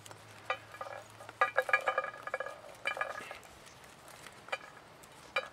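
Pepperberries rubbed off their stalks by hand and falling into a bowl, a quiet run of small rattling clicks and light patters in uneven bursts, close up, with no talk.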